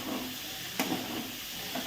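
Paneer fried rice with cabbage and ground pepper powder is stirred in a pan over a high flame, giving a steady sizzle broken by a couple of brief scraping knocks, with no voices.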